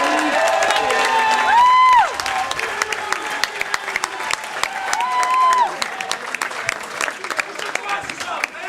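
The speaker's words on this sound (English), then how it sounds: "a round of applause, please." Wedding reception guests clapping and cheering for the father of the bride, loud applause with whoops and shouts, voices calling out over the clapping throughout.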